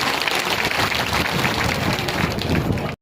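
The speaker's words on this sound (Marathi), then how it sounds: "एकदा जोरदार टाळ्या झाल्या पाहिजे त्यांच्यासाठी." A crowd at a Maharashtra water-inauguration event gives Maheshji Shinde loud, sustained applause, dense clapping filling the space before cutting off abruptly at the end.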